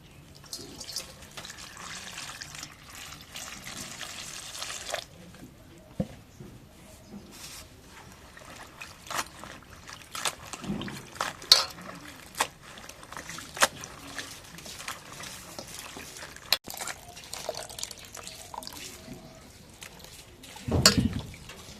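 Pumpkin flowers being rinsed in water at a kitchen sink, with soft running and trickling water, scattered drips and light splashes continuing steadily at low level, occasional handling sounds, no talk.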